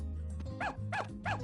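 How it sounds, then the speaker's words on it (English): Three yappy puppy barks from the farming video game Story of Seasons: A Wonderful Life, evenly spaced and fairly close, over a steady game background tone. "Puppies!"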